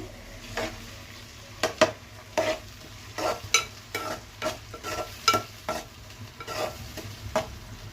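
Tomatoes and onions for a mutton curry being stirred in a hot pan, with repeated close scraping strokes of a spoon over a steady, soft sizzle of frying.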